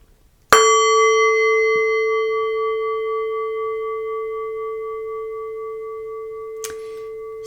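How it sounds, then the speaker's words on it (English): A single bell is struck once, giving a sharp clang that rings out with a long, slowly fading tone. Near the end there is a brief faint knock. "I'm going to start with just the sound of a bell"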